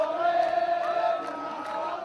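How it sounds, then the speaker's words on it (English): A protest crowd celebrating at the Pearl Roundabout, heard as a sustained mass of raised voices and cheering, moderately distant and fairly steady over a couple of seconds. "There was nothing to stop the rush to the Pearl Roundabout, and the crowd began celebrating."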